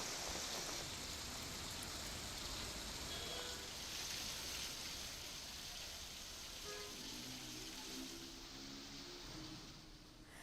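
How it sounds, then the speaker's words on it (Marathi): Heavy monsoon rain pours down steadily in Delhi as a dense, continuous hiss with no breaks, with faint low tones creeping in near the end. "मात्र नंतर मुसळधार पाऊस पडला"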